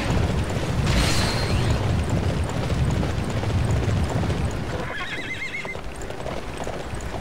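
A horse in the video game Dynasty Warriors 9 gallops with rapid clip-clopping hooves, followed by a loud neigh over game effects and rumbling battle noise.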